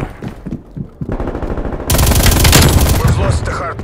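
Sentry turret machine gun fire in the video game Call of Duty: Black Ops Cold War, loud rapid bursts that swell into sustained close automatic fire, with a voice speaking over the opening.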